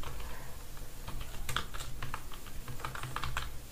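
Rapid typing on a computer keyboard while coding a C++ program, a steady stream of close, light key clicks with short pauses and no talking.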